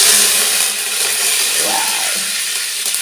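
Fresh curry leaves drop into hot oil already holding fenugreek seeds in a pan, bursting into a loud, steady crackling hiss that fills the whole stretch, with a brief rising whistle-like tone in the middle.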